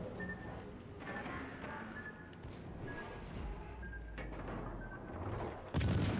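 Warship front guns firing in the naval video game World of Warships Legends, a faint muffled boom under steady game ambience, followed by a sudden louder burst at the very end.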